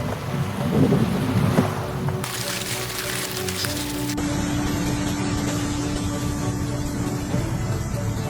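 Heavy rain and storm noise from Hurricane Francine in Louisiana, a steady broadband wash of downpour and wind that holds loud throughout, with a brief louder burst of rumbling early on and no speech.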